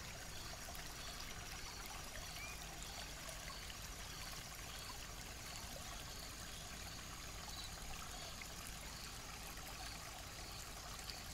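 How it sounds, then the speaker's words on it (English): Creek water flows in a steady, faint, continuous rush and trickle, with no voices. "I just found this little spot by the creek."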